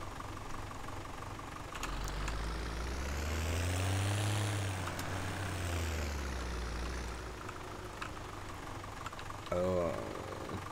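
A John Deere 4755 tractor engine drives in Landwirtschafts-Simulator 17, a steady low drone that swells and pitches up as it draws nearer, then eases off, with a brief rattling knock near the end.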